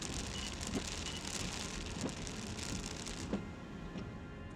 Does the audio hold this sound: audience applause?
no